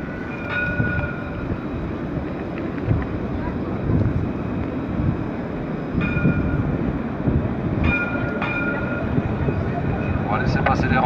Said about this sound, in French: On va laisser passer les rames de métro.